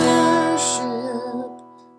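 A single strummed guitar chord rings out clearly, then slowly fades. A brief scratchy brush of strings comes partway through.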